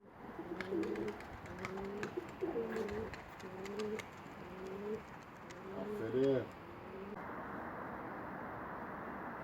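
A male Donuk Karanfilli pigeon gives a series of rhythmic, close coos, repeated about six times with a louder burst near the end, over a faint background hiss.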